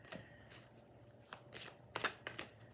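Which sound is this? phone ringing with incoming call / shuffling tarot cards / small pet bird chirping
shuffling tarot cards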